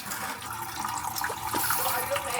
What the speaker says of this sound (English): now we can start draining the radiator